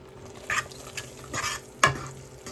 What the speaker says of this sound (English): So just keep stirring it until it turns brown.